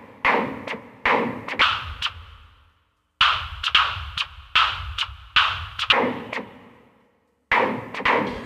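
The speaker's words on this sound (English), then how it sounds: "the only thing going into that filter is white noise" White noise from an analog modular synth is shaped by a fixed filter bank into sharp, hissing bursts that fire in quick rhythmic clusters, each decaying fast, with two short silent gaps between groups.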